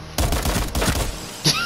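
Rapid automatic gunfire from a weapon in Rainbow Six Siege, a close, loud burst of repeated shots lasting about a second, followed by one sharper impact.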